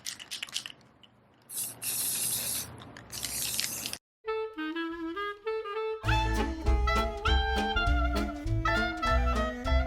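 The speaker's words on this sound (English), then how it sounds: "Let's spray the pants." Red spray paint hisses from a can onto thrifted jeans in a few close, sustained bursts, each separated by brief pauses, before music takes over.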